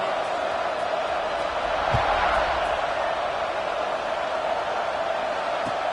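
A college football stadium crowd at kickoff in a football video game, a steady broad roar with a couple of dull thuds, under a commentator's voice.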